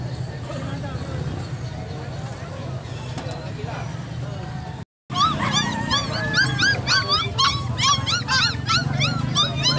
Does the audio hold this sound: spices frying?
no